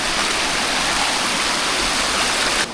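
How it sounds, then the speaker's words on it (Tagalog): A river rushes with steady, loud broadband flow as hikers wade across it on a mountain trail, close and continuous with no voices. "Tawid ulit sa ilog."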